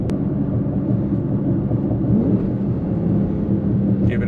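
A 2011-2019 Infiniti M56 (Q70) fitted with PPE headers and exhaust accelerates under throttle, giving a steady loud, deep exhaust rumble from inside the car that builds with the pedal, with no talk over it.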